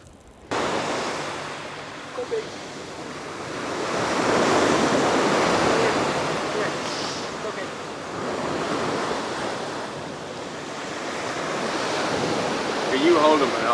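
Sea waves at a beach, a continuous rushing surf with swells rising and falling, wind buffeting the microphone, close and moderately loud.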